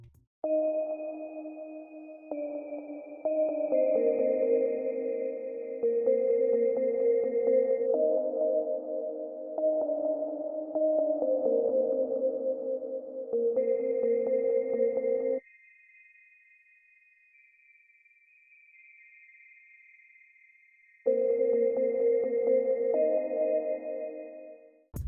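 Two KORG Gadget Chiang Mai synth bell presets play in alternation, sustained tonal chords with a thin high bell-like line above, dropping to near silence for several seconds before the second preset returns at full level.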